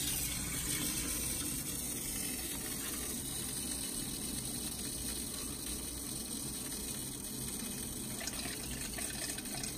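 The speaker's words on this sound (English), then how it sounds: "What's coming out of the reverse osmosis system" Water runs steadily from a BRS 75 GPD RO/DI reverse osmosis unit just switched on, a constant close hiss and trickle with no talking.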